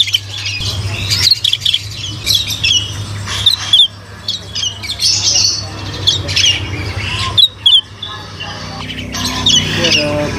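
A small cucak mutiara songbird calls loudly and close, with repeated sharp, squawking chirps and whistles in quick bursts over a steady low hum, while faint voices talk in the background.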